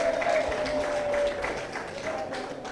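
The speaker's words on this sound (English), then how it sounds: "Give him a round of applause for me, please." Crowd applause at an outdoor Market Day event in Roseau, a steady wash of clapping throughout, with a voice speaking over it.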